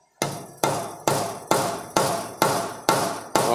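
Repeated strikes of a dead blow hammer on a B275 tractor cylinder head: eight loud, regular knocks with a slightly hollow, ringing tail, close up and alone.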